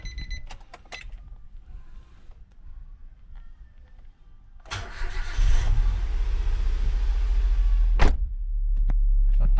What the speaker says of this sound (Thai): ลองมาสตาร์ทเครื่องดู